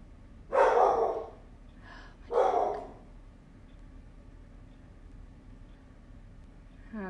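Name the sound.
dog barking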